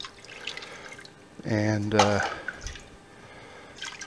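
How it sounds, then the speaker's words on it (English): Warm water at 100 degrees Fahrenheit is poured into a pot of cheese curds while making homemade pepper jack, heard as a short splashing, gurgling pour near the middle, with quiet talk before it. "now I'm going to put in some water that's also at 100 degrees Fahrenheit"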